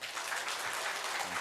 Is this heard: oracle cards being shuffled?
no